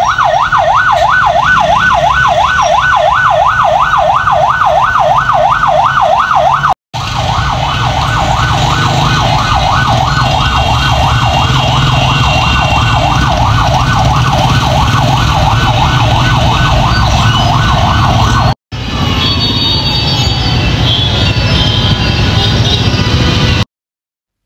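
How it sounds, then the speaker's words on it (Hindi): Ambulance sirens wail with a steady, fast up-and-down cycle in blocked, crowded market traffic, loud and close and continuous across several cuts, over a thick rumble of engines and street noise. "इतनी सारी एम्बुलेंसेस यहाँ पर एट अ टाइम 4 एम्बुलेंसेस जो थी वो डिफरेंट वे से आके खड़ी हुई थी"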